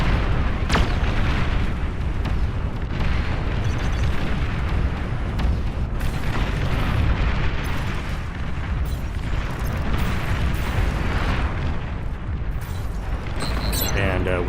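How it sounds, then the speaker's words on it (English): Explosions and battle noise from the real-time strategy game Beyond All Reason, with a dense continuous rumble and scattered booms at steady loudness. "Smaller explosion than I remembered it being"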